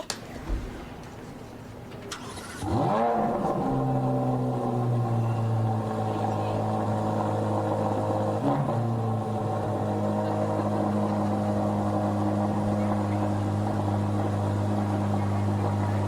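A Chevy car's engine starts after a couple of seconds of quiet, then runs with a steady, even hum for the rest of the clip.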